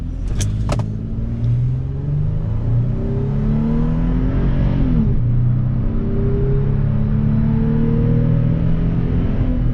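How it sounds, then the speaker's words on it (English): A 2019 Toyota 4Runner Limited Nightshade accelerates hard from a standstill in a 0 to 60 run, its engine droning loud and close from inside the cabin, rising in pitch through gear shifts with a brief dip around the middle. "So now I'll get a quick little 0 to 60 test just to show the acceleration of this vehicle"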